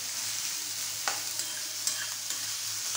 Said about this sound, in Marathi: कांद्याला थोडा लालसा कलर येईपर्यंत आपल्याला कांदा परतून घ्यायचा आहे।